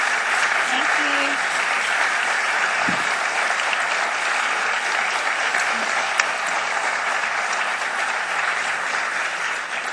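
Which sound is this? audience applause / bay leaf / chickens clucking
audience applause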